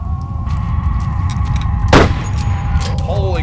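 Rifle fire in the World War I shooter 1916: one loud, broad shot bursts out midway above a constant low rumble and steady tonal hum, with faint clicks and movement sounds around it.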